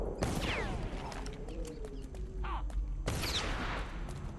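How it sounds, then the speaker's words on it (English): Gunfire in a video game as characters shoot at rats, with two loud bursts of shots separated by a quieter stretch. "they're shooting the rats."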